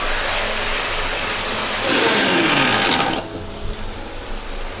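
A mixer grinder whirring loudly as it grinds garlic and ginger into a paste, a steady high whine that slows and drops in pitch as the motor spins down.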